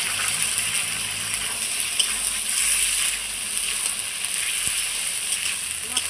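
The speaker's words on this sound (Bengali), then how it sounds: "মশলাটা দিয়ে খুব সুন্দর করে কষিয়ে নেব।" Ginger, cumin and chili paste frying in a pan with potatoes and onions, a steady soft sizzle and hiss throughout with no talk.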